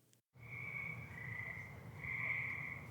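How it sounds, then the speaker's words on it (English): Tree frogs call at night in northern New Canaan, Connecticut, a dense, continuous high trilling chorus with a low hum beneath, steady and fairly faint, after a brief cut-out at the start. "the tree frogs are out in abundance"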